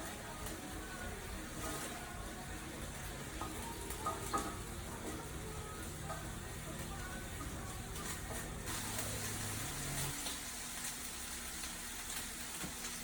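Bacon frying in a pan gives a steady, soft sizzle with faint crackles that runs through the whole stretch, quiet and close, with no talk over it.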